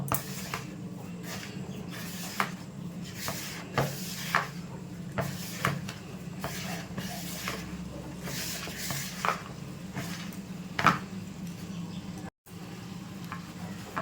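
Flour, ajwain and refined oil are rubbed and mixed together by hand, giving soft repeated scraping and rustling strokes over a steady low background hum, with no one talking.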